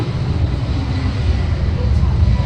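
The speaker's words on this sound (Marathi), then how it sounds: "विमान चाललं आहे बघा विमानाचा आवाज येतोय" A broad, steady engine roar of an airplane passing overhead in Kurla, Mumbai, heard from a third floor, fills the whole stretch, loud and even without a clear rise or fade.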